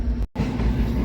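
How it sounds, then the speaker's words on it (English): Freight train rolling past near Denver, a loud, steady rumble of wheels and cars close by, with a brief dropout early on before the heavy rolling noise resumes and continues. "This is the Q train coming."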